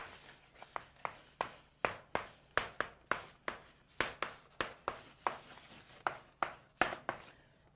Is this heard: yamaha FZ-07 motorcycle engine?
no